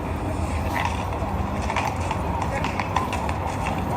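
Horse hooves clip-clop in a quick, irregular rhythm on a city street, sounding moderately near while someone talks over them the whole time.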